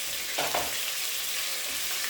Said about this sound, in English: mix my rice with cooking oil for a little bit